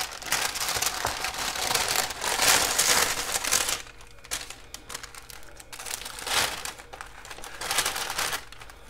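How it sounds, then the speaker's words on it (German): A plastic bag of swapped craft cards is torn and rustled open close up, giving several seconds of loud, dense crinkling and crackling with quieter stretches in between, and no speech over it. "So, ich mache mal die Tüte auf."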